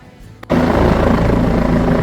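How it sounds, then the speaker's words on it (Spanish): Helicopter flying over Lake Agnes near Banff in summer, the lake still frozen; its rotor and engine roar swells in suddenly after a brief quiet moment and holds loud and steady, no talk over it. "Este helicóptero"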